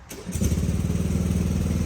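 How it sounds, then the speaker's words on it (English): A tractor engine turns over in a garden where a rhododendron is being pruned, then settles into a steady, loud, throbbing idle that runs close by for the rest of the moment. "That's our friend Lloyd with the tractor helping us out here today"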